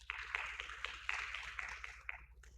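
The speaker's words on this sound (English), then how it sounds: "You may clap now" Conference audience clapping after a talk, a thin, fairly faint patter of hand claps in an uneven rhythm lasting a couple of seconds before fading out.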